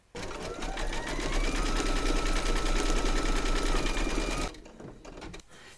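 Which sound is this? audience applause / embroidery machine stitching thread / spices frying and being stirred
embroidery machine stitching thread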